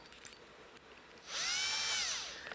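A power drill with an 11/64 bit bores into a Dodge fuel module, spinning up in one loud, steady whine for about a second after a brief quiet lead-in.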